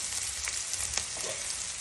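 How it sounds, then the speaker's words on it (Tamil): Curry leaves sizzling and crackling in hot oil, with soft scraping as they are stirred around the pan while making goat blood fry; a steady, fairly quiet fry. "கருவேப்பிலை கொத்து மலை போட்டு நல்லா கிண்டி விட்டுக்கோங்க"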